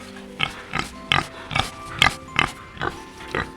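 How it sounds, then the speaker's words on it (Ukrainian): A domestic farm pig grunts about eight times in a steady rhythm, close and fairly loud, in a lesson on farmyard animals for children. "Так, це свиня. І вона хрюкає."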